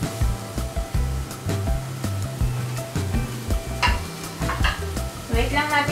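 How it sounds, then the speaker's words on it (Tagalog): Onion and garlic fry in a pan for a shrimp curry with coconut, giving a loud, steady sizzle broken by repeated scraping stirs and clattering utensil knocks, with no talk. "Wait lang natin maluto yung onion at saka garlic"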